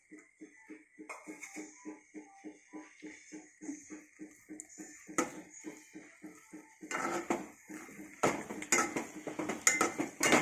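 A utensil scrapes and clinks rhythmically against a pan while masala is stirred into cooked noodles, a steady run of quick metallic taps that grows louder and more clattering near the end.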